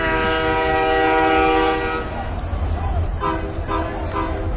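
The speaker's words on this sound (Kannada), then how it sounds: "ಮೋಸ್ಟ್ ವಾಂಟೆಡ್ ನೈಜೀರಿಯನ್ ಟ್ರೈನು ಅದರ ಮಾರ್ಕೆಟ್ ಮೇಲಿಂದ ಹಾದು ಹೋಗುವಂತ ಸಮಯ ಬಂದೇ ಬಿಡ್ತು" A Nigerian train passing through a crowded market sounds a loud, sustained horn that fades into a rumbling roll of wagons.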